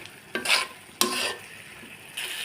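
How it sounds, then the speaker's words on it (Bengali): Potatoes sauté with spices in a pan for a fish curry, giving a soft continuous sizzle broken by a few sharp scraping stirs of a spatula, close and alone with no voices. "মশলার সঙ্গে আলুটা ভালো করে কষিয়ে নিব।"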